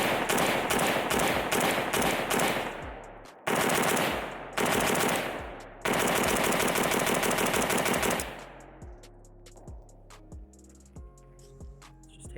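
Bursts of gunfire from a Pioneer Arms 556 sporter underfolder AK rifle at a range, three loud strings of rapid shots separated by brief pauses, then clattering echoes and a few scattered clinks.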